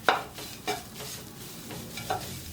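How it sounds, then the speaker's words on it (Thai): Textured soy protein stir-fried with chili in a pan for a vegetarian Thai eggplant and basil dish, a few distinct scraping stirs over a soft, quiet sizzle, close by, without talk. "คั่วหรือว่าผัดจนโปรตีนเกษตรของเราเนี่ยเริ่มสุกก่อนนะคะ"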